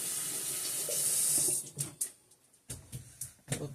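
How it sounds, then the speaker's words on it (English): Kitchen tap water runs in a steady hiss while hands are washed, then breaks into a series of short splashes and rubbing sounds as the hands move under the stream. "Let me wash my hands here. Wash my hands off real good"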